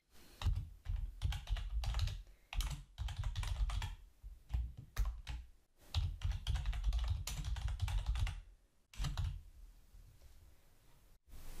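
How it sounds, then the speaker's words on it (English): Rapid bursts of close keyboard typing on a computer, clicking keys in irregular runs separated by short pauses, with no voices. "hit Control and Return on your keyboard"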